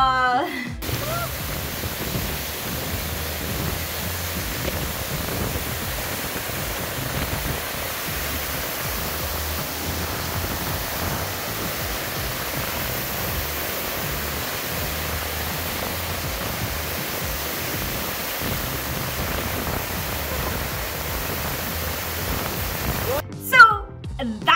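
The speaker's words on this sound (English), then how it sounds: "Finally, after a long time, I finally get my waterfall." A waterfall in Colombia pours as a steady, broadband roar that fills the scene without a break, with faint voices at moments and a brief louder disturbance near the end.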